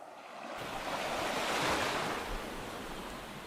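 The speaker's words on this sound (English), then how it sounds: "listening to the waves crash against the rocks as the breeze tugged at the frayed hem of her robe" Ocean waves break against rocks in a steady, full roar of surf with wind noise mixed in, swelling slightly toward the middle and staying loud and close throughout with no voices.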